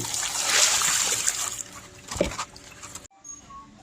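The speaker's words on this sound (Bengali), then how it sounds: "পোড়া আমগুলো ভালো করে ধুয়ে নিতে হবে।" Roasted mangoes are rinsed by hand in water, producing close splashing and sloshing that swells, settles into trickles and cuts off abruptly.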